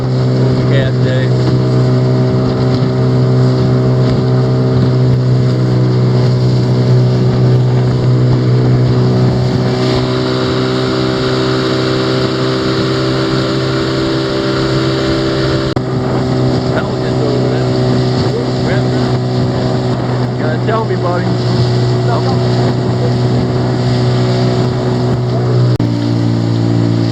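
A motorboat running a little over half speed on choppy lake water, with a loud, steady outboard drone, wind buffeting and water slapping, and someone speaking intermittently.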